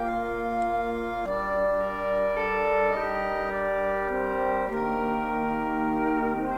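A wheezing, reedy keyboard instrument plays sustained chords that shift every second or two, within a song. The music is full and continuous, with no talking over it.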